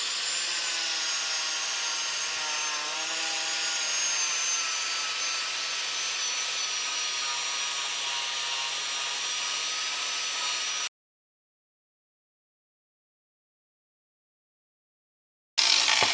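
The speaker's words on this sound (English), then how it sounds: "Angle grinder." An angle grinder works on Kawasaki ZX6-R motorcycle panels, giving a steady, high whining grind that holds for about eleven seconds, then cuts to silence before a brief burst returns at the end.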